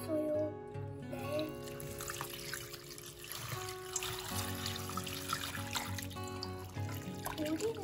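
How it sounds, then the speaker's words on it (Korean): Water trickles and pours into a pot on the stove for a homemade Christmas simmering scent, a soft, steady stream heard close but quiet, with faint background sounds around it. "여기다가 물을 넣어줄게요"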